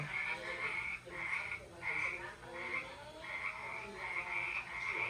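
Frogs croak inside a room at night, a steady run of repeated calls pulsing roughly every second, close and fairly loud over a dense chorus of more distant frogs and insects.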